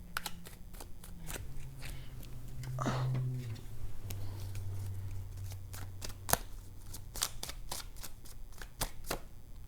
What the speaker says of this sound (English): Let me pull one more card.